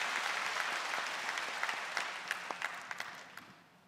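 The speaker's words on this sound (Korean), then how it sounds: "하나님께 영광의 박수 올려드리겠습니다." A church congregation applauds to glorify God during a sermon, with a full round of clapping that gradually dies away into a few scattered, separate claps at the end.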